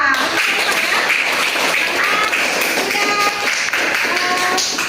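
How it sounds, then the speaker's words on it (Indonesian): A classroom group claps together for everyone during a lesson, a loud, dense patter of hands close by, with faint tonal voices or sounds mixed in underneath. "sekarang kita berikan dulu tepuk tangan untuk semuanya"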